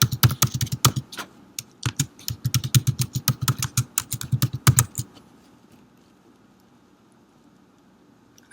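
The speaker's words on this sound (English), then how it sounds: "I'm going to type this in" Rapid bursts of keystrokes on a computer keyboard, close and crisp, come in quick clusters for about five seconds before stopping, leaving near silence.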